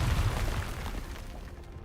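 Confringo blasting spell explosion in Hogwarts Legacy, a deep rumbling boom that decays over about two seconds, fairly loud and heard alone.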